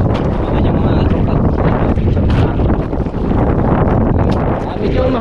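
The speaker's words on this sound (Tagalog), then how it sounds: "Medyo mahangin-hangin mga katropa," Wind blowing at sea from a small boat while fishing, loud gusty buffeting on the microphone that covers the whole stretch, with water and hull noise underneath.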